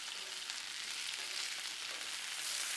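Italian-style pork chops sizzle and fry on a Blackstone griddle, a steady, close, crackling hiss with no voices.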